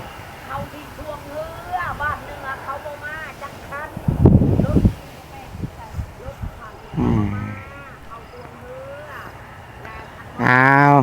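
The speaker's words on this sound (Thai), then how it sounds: "ลมพัดนี่พี่น้อง ลมพัด" Gusty wind sweeping across open rice paddies, a steady broadband rush with louder surges, heard under someone talking intermittently.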